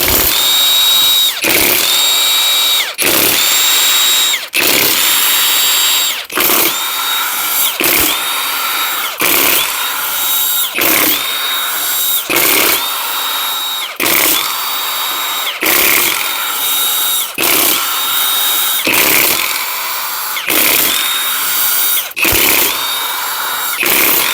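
Power tool, likely an impact driver or drill, loosening the 10 mm 12-point inside main bolts on a supercharged Audi 3.0T engine during a teardown, in about fourteen loud repeated bursts separated by short pauses, with no talking.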